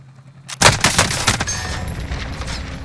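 A rapid burst of MG82 machine-gun fire in Call of Duty Warzone, several close, loud shots that start abruptly after a quiet moment and then tail off into a lingering echo.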